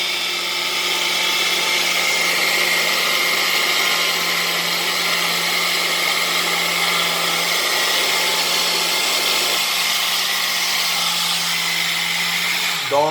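A blender whirring steadily as it mixes a smoothie, a loud continuous motor whine with a low hum that holds for the full stretch before cutting off at the very end.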